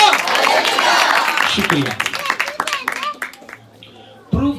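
A church congregation claps loudly through a sermon, the applause dense at first and then thinning into scattered claps. A voice speaks briefly over it near the end.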